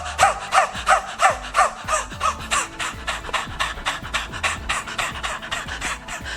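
A person imitates a dog panting, with quick rhythmic breaths in and out repeated steadily and close up.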